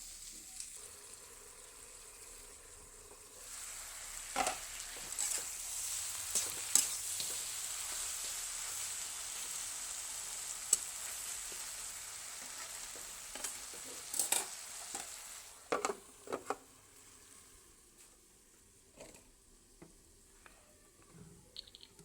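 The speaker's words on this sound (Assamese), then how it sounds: "অকণমান জুই দি এইখিনি 10 মিনিটমান সময় ভাজিব লাগিব" Taro stolons fry in a pan over a low flame, a soft continuous sizzle broken by intermittent clinks and scrapes of stirring, fairly quiet and with no voices.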